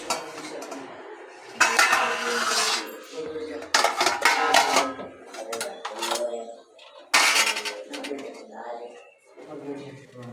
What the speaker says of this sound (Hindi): प्लेट्स लेके आती हूँ मैं, पूरा पतीला ही लेके जा दिया मैंने